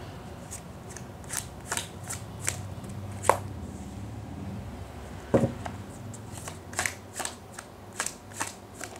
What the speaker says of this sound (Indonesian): terutama ketika aku shuffle kartu ini biar energi kamu bisa nitip di kartu saya agar hasilnya resonan